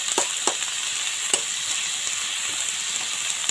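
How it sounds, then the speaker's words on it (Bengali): A small amount of oil sizzles under onion, tomato, green chili and coriander in a wok, a soft steady frying hiss broken by a few sharp spatula clicks, nearby and without speech. "পেঁয়াজ, টমেটো, কাঁচা লঙ্কা আর ধনেপাতা একসাথে আমি তুলে দিয়ে দিয়েছি। এটাকে আমি খানিকক্ষণ ভাজবো।"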